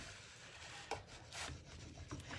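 Wooden sign scraped with a hand scraper, a few short rasping strokes close by, fairly quiet.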